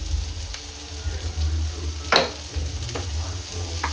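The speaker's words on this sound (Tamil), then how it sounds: "இங்கே பாருங்க, வெங்காயம் பச்சை மிளகாய் போட்டு வதக்கிட்டு இதோட அந்த கிழங்கு இருக்குல்ல" Onion, green chilli and sweet potato sautéing in a pan, a low steady sizzle broken by a few sharp scraping stirs of the spoon, close and moderately loud.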